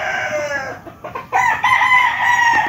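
Young gamecock stags crow in a cording area, several loud nearby crows overlapping one after another with short clucks between them.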